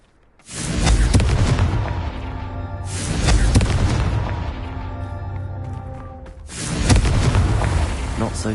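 Confringo fire spell blasts in Hogwarts Legacy on PS5: three loud, booming explosive bursts, each swelling into a long rumbling roar before the next, played close with no talk.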